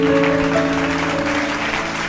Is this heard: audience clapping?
yes